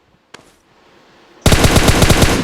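Loud, continuous automatic gunfire from the PUBG battle royale game erupts partway through, a rapid close burst of shots following a single earlier crack and quiet moments, with no talk.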